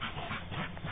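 Excited old dogs whimper in a brief, thin, high-pitched whine heard up close, with no talking.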